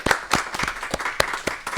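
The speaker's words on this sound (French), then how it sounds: "On vous applaudit tous." Residents and staff at a nursing home clap together in a short, sparse burst of applause, close and moderately loud, with no talking over it.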